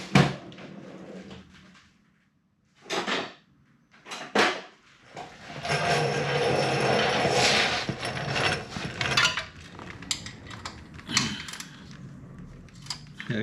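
A ratchet clicks in short bursts while undoing a 10mm transmission bolt on a Honda Odyssey FL350, the close mechanical clatter separated by pauses, then a longer stretch of rattling and clicking.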